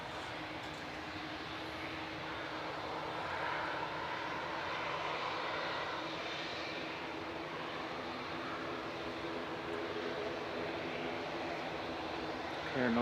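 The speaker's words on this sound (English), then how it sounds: "Hear a noisy prop." A noisy propeller aircraft engine at Manchester Airport drones steadily in the distance, a constant rough hum with a faint whine and a slight swell in the middle, nobody speaking.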